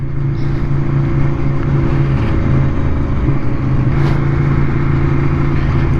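Racing motorcycles at the Isle of Man TT roar past at close range, a loud, continuous engine drone holding steady for several seconds with no speech.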